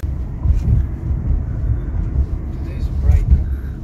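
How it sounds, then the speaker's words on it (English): A taxi driving on a road in South Korea in spring, heard from inside as a steady low rumbling engine and road noise, with people talking over it. "So ito na yung taxi namin."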